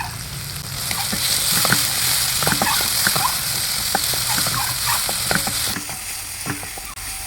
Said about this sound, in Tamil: குடமிளகா, வெங்காயம், தக்காளி வதங்கும் போதே